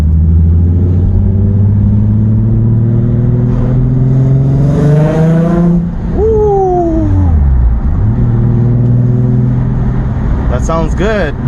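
A Nissan 350Z with a repaired exhaust rattle revs hard in second gear, its exhaust note rising and falling through several loud, close pulls with a brief lift in the middle.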